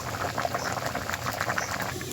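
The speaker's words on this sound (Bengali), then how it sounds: "একদিকে চিকেন হচ্ছে আর একদিকে ছোলা কচু ভাজা হচ্ছে।" A pot of chicken curry simmers in a homestyle village kitchen, giving a close, continuous bubbling and popping that holds steady for the whole short stretch.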